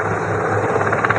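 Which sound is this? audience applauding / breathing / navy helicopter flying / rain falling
navy helicopter flying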